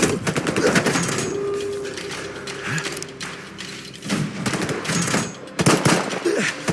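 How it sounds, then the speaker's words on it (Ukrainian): Rapid bursts of automatic gunfire in the shooter game STALKER 2 Heart of Chornobyl, with clattering weapon mechanisms and repeated volleys, some close and sharp. "Чому по нас стріляють? Якого хріна ви стріляєте?"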